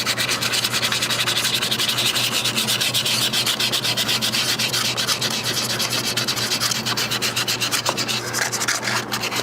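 An abandoned Hustler 6x6 amphibious ATV's flywheel is scrubbed clean of patina, producing loud continuous rapid rubbing and sanding strokes up close, with no talking.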